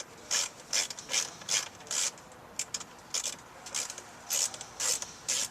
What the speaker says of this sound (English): move down to the bottom of the door panel and remove two more screws